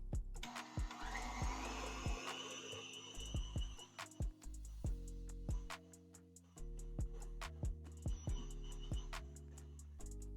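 An electric stand mixer creams butter and sugar for pound cake batter, a steady whirring motor hum running throughout with repeated sharp clicks and knocks of the beaters against the bowl.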